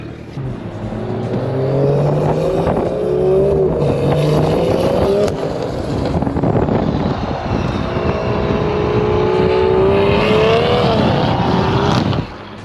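A car engine with a valvetronic exhaust revving hard and close, pitch rising and falling in sweeps with raspy exhaust roar, loud and continuous.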